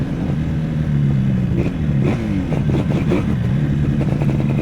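A Yamaha RD400 motorcycle ridden on a quick lap, its engine loud and close, holding a steady buzzing drone with gear-driven pitch swings as it accelerates and eases off, alone without talk.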